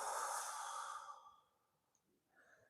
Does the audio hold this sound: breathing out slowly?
yes